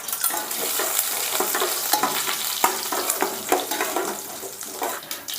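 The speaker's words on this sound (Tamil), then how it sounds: "கடுகு பொரிஞ்சிருச்சு." Mustard seeds and lentils sizzle and crackle in hot oil in a kadai, with steady frying noise close by, sharp pops scattered throughout and light stirring scrapes.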